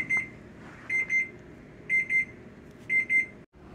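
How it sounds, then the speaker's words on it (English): An electronic kitchen timer beeps in pairs of short, high-pitched tones, repeating about once a second over a quiet room. "All right, the alarm just went off."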